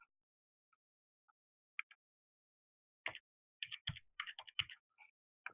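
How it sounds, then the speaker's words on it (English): Keys on a computer keyboard click sparsely at first, then a quick burst of irregular taps follows, close and quiet, with no talking. "Sorry, my keyboard is messing up on me."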